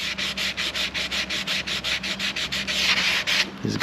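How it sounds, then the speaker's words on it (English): Steady back-and-forth hand sanding over guide coat on an outboard motor cowling, close and loud, with rhythmic rubbing strokes about every quarter second, a brief pause near the end. "Just want to sand until the guide coat is"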